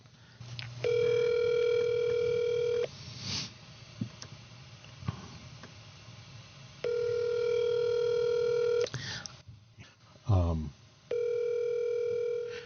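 Electronic telephone ringing in long steady tonal bursts with pauses between, loud and close, repeating several times during a call, with a brief click and a short voice-like sweep between rings.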